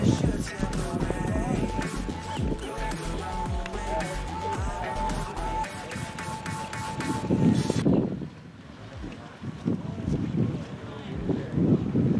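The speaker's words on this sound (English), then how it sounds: "The wind's really picking up." Wind gusting loudly across open water during a radio-controlled IOM sailboat championship race, a steady rushing roar mixed with boat and water noise, briefly dropping off near the end before rising again.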